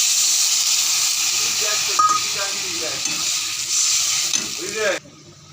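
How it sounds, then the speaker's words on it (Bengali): Water being poured into a sizzling pan of potato and pointed gourd curry, a steady loud frying hiss with stirring, fading sharply to quiet at the end. "এবার আমি পরিমাণ মতো জল দিই"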